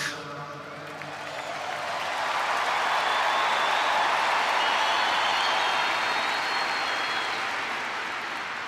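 A large crowd at a tribute rally led by Trump for Charlie Kirk applauds and cheers, swelling from a murmur into a loud, sustained wash of clapping that lasts several seconds without speech.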